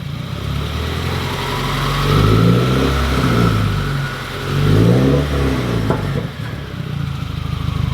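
A Subaru WRX with a faulty exhaust revs in short blips from a steady idle, each rise swelling loud and close before dropping back, with no voices over it.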